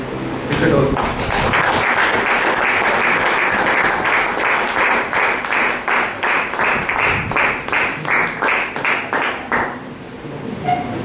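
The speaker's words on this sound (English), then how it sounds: "Give him a big round of applause for his acting" A crowd applauds steadily for several seconds, a dense wash of clapping that swells into rhythmic claps before tapering off.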